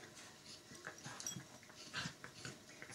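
A three-month-old schnauzer puppy pants and whimpers softly up close, with short high whines over quick breathing, faint and intermittent.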